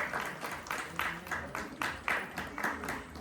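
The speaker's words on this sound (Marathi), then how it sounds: "आपण जोरदार टाळ्या वाजवूया." Audience applause at a Satyanarayan Mahapuja community gathering in Kotavade, Ratnagiri, for a cash-prize performer: a steady patter of clapping with regular louder surges, moderately distant and unaccompanied by talk.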